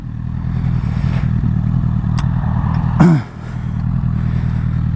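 A motorcycle engine idles at the roadside while the rider stops to check a newly scrubbed-in tyre. It runs as a steady, loud, close drone, with a brief rev and a clatter partway through and no talk over it.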